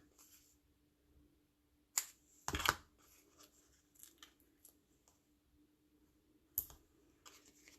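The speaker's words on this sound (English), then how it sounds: "And then we'll just cut some of these strips." Scissors cut strips of paper for painted poppies, giving sparse, soft, close snips and clicks with a couple of sharper rustling cuts amid near silence.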